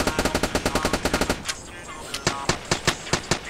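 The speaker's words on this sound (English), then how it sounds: "I'm being shot at. I'm being sniped." Rapid automatic gunfire from the Roblox game Polybattle rattles out in a fast, loud burst, then falls to a short lull before single spaced shots crack out again, with no talking over it.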